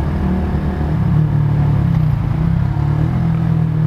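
Cars idle and creep in a traffic jam at a road bottleneck, giving a continuous low engine rumble from nearby vehicles, steady and moderately loud with no talk.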